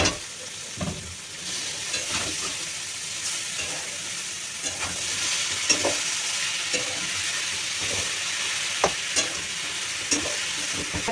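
Fried potatoes and freshly added cabbage crackle in a pan with a steady moderate sizzle, punctuated by irregular clicks and scrapes of stirring, close by with no talk.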